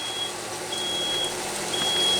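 An intermittent high electronic beeping from a fire alarm, sounding in steady spaced bursts over a constant background hum, fairly loud and unbroken by talk.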